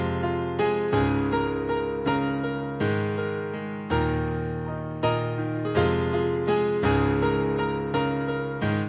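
Solo piano plays the chorus of a song, full sustained chords struck in a steady repeating pattern, each attack decaying before the next, close and fairly loud with no voices.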